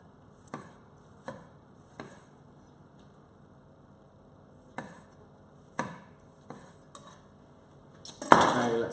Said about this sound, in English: cut them into quarters and then cut them again into 3